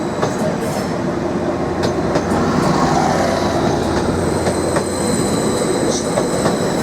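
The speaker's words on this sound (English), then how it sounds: "the same trio of Class 755 units in multiple are now performing a stop move" Three coupled Class 755 units pull out of Norwich station in a loud, continuous rolling rumble, with faint wheel squeals and clicks over the top.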